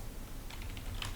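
Fingers type on a computer keyboard in a short, quick burst of soft key taps, close and fairly quiet, with no talking.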